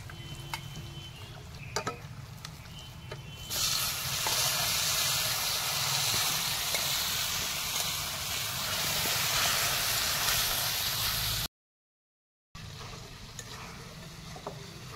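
A loud, steady hiss of boiled meat sizzling in a hot frying pan in a village kitchen starts abruptly and continues, with a brief silent gap near the end.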